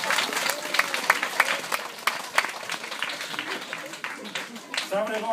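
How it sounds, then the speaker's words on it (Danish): A small audience claps for Gustav after a magic trick with a large egg, scattered applause rising and fading over a few seconds, with voices talking through it. "og vi klapper lige Gustav"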